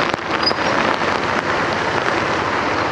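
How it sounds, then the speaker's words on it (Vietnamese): Heavy downpour over a market in Saigon, a dense, steady roar of rain hammering surfaces, loud and continuous throughout with no pauses. "Mưa mà những giọt mưa đó nó rát mặt luôn anh chị."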